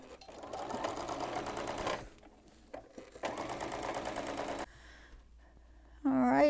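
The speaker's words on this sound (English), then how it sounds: "I'm going to sew the tab 1/4 inch." A sewing machine runs in two sustained bursts, stitching a fabric tab with a quarter-inch seam for a tea wallet, with a short pause between runs and a brief voice near the end.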